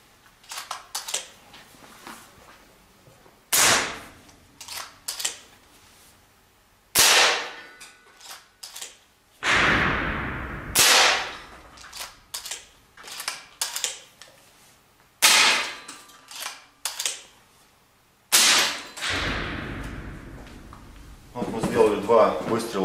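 A series of sharp, loud shots from an FX Wildcat MK2 PCP air rifle, each a crisp crack followed by a short ringing decay, spaced several seconds apart with quieter clicks between.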